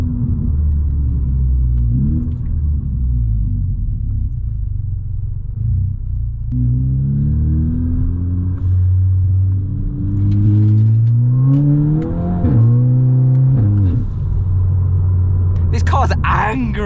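A Volkswagen Scirocco engine revs and rumbles while driving, rising in pitch through several climbs and gear changes, loud and close from inside the car, with a voice talking over it.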